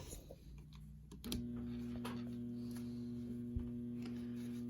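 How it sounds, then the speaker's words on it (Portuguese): A 12V 100A battery charger's transformer switches on about a second in, then holds a steady, moderately loud mains hum with a faint buzz, alone without talk. "Agora eu vou ligar o transformador."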